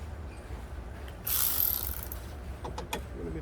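A wrench works a 10mm bolt loose on a Chevy Equinox during battery and spark plug service, giving a sudden burst of close mechanical clicking and ratcheting that starts partway through, then a few sharp ticks trailing off in a quiet garage.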